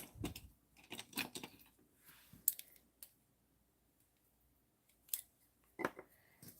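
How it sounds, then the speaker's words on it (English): Scissors snip through a paper sheet of strips for a handmade greeting card: a run of close, crisp cuts in quick bursts, then a quiet pause, then a few more isolated snips. "I'm going to get my scissors."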